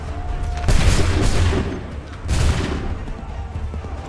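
Musket volleys ring out in a period battle in Assassin's Creed 3, two heavy bursts of massed fire about two seconds apart, loud and close, over a dense battlefield din.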